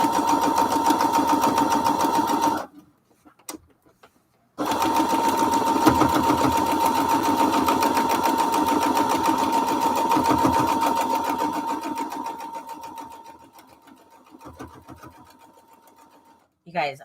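A sewing machine runs steadily while stitching strawberry quilt pieces, a loud continuous whir with one brief stop near the start, then gradually slowing and fading toward the end.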